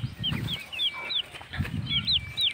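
Many native chicks (sisiw) cheep in a shrill flock, their rising chirps repeating close by in bursts over low background rumble.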